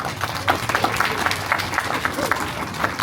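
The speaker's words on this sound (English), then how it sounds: "everyone give a round of applause for the moonfish." An audience claps at an animation class in a Disney park, with scattered, moderately loud clapping that rises and falls over a few seconds amid crowd murmur.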